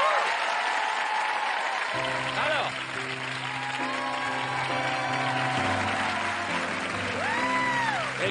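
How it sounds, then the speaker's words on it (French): Studio audience on a French Friday-night TV entertainment show applauding loudly and steadily under music, with a presenter speaking over the clapping. "On les applaudit très fort."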